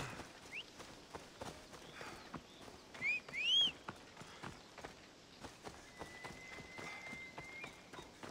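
Hooves of a summoned horse walking in a video game, heard as faint, even clip-clop steps, with brief synthetic chirps and a whistle-like tone mixed in.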